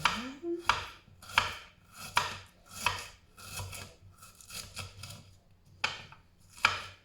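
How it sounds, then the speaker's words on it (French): Rhythmic knife chopping on a cutting board, about a dozen crisp close strokes in a steady pattern, shallots and garlic being cut with no speech. "je vais émincer les échalotes et l'ail"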